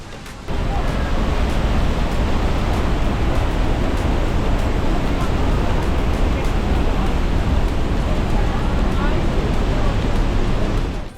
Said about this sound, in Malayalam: വെള്ളച്ചാട്ടം തൊട്ടടുത്ത് നിൽക്കുന്നതായിട്ടും ആ സൗണ്ടൊക്കെ നന്നായിട്ടൊക്കെ എക്സ്പീരിയൻസ് ചെയ്യാനൊക്കെ പറ്റും